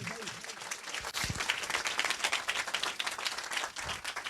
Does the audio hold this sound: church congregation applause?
yes